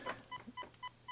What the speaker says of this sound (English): if we dial a line that's inactive, you're going to get a busy signal, which is just a repeated tone